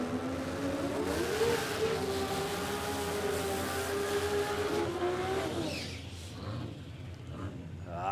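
A no-prep drag racing car accelerates hard down the strip at Warwick Dragway in Australia, its engine note climbing steadily and loud before dropping away as the car pulls into the distance.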